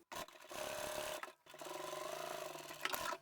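A sewing machine runs steadily, narrow top-stitching close to the edge of a zippered fabric bag, in two sustained bursts split by a brief pause, close and clear without talk.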